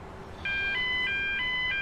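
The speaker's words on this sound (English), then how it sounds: "Another frickin' fire alarm." A fire alarm in the Emergency 4 firefighting game starts abruptly and repeats a clear, loud, stepped electronic beeping pattern of alternating tones.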